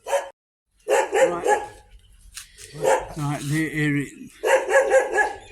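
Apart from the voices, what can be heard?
dogs barking at a dog sanctuary in Chonburi, Thailand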